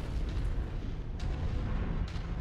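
A mech's alpha strike in MechWarrior, heard as a sustained heavy rumbling roar of weapons fire with a couple of sharper bursts breaking through.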